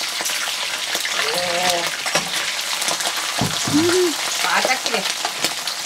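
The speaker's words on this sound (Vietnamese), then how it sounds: "Bây giờ mình sẽ bỏ đậu tôm vô chiên nha." Battered shrimp heads fry in hot oil with a steady, dense sizzle and crackle throughout, while a voice speaks briefly over the bubbling.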